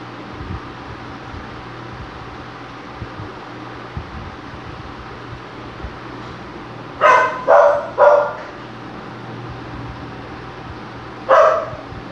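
A dog barks near an open window in a home: a quick burst of three barks, then a single bark a few seconds later, moderately loud over a steady fan-like hiss.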